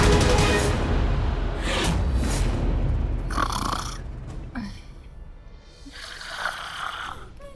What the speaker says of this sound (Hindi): फिर ये खर्राटे की आवाज कहाँ से आ रही है?